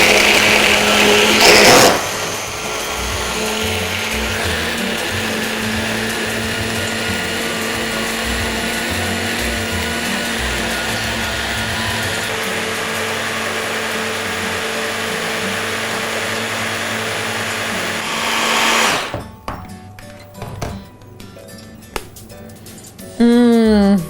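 A blender whirs steadily at high speed while whipping a sauce for baked potatoes, loud and continuous for about eighteen seconds before cutting off, followed by a few faint clinks.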